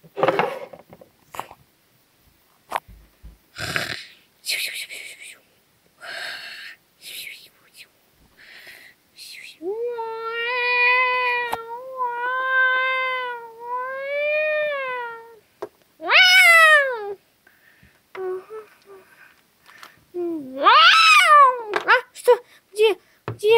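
A cat gives several long, drawn-out meows and wails, loud and close, between bursts of whispering and quiet talk in a room.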